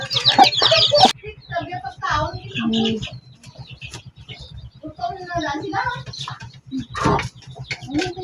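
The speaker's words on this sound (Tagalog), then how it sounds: "may mga malaking manok kasi dito" Chickens cluck in bursts close by, mixed with a steady low hum and a person talking at intervals.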